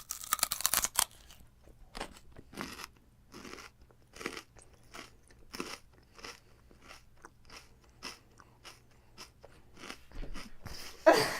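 Close, repeated crunching and chewing of a snack with chewy raisins and peanut butter, with a crunchy, watery texture; loud bites come in a steady rhythm with short pauses and no talking.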